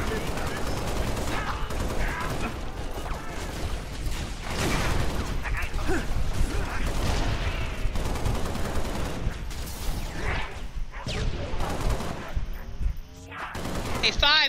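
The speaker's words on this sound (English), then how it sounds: "Five, you wanna shoot a little bit here?" Gunfire in the Halo Reach video game: dense, continuous volleys of shots and mechanical weapon noises fill the whole stretch, loud and busy, with bursts overlapping one another.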